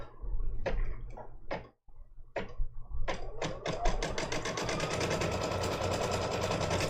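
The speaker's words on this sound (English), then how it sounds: "So you can just chit chat and watch it stitch, right? And I'm glad that the machine noise is okay." An embroidery sewing machine stitches free standing lace, starting with a few separate mechanical thumps and bursts, then settling into a steady, continuous rapid stitching chatter that runs close and fairly loud to the end.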